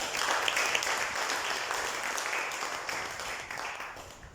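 Applause from an audience at a Caritas 60th-anniversary book launch in Mauritius, a dense, even clapping wash sustained for a few seconds and slowly fading, heard from a moderate distance.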